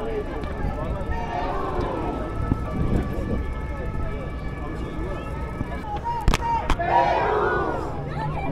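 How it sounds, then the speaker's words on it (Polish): A crowd of tourists from Peru gathers at the Brandenburg Gate in Berlin, with many voices chattering together at close to middle distance. A louder burst of voices rises near the end. "Jak słyszycie, wycieczka z Peru jest."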